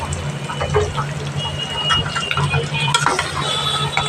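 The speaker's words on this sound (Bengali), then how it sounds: "এবার ভালোভাবে কষাবে বটের সাথে মশলাগুলো" Boiled beef tripe being sautéed with spices in a pan, a steady low sizzle with scraping and stirring clatter of a utensil against metal, while voices talk over it.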